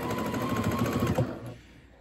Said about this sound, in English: I'm just gonna very carefully go along and sew this together.